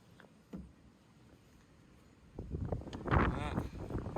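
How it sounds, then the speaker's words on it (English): Gusty outdoor wind buffets the microphone during van repairs, a low rushing roar that swells in the second half and stays loud to the end. "Goodness me, the wind."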